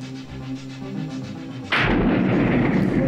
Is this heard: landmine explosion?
yes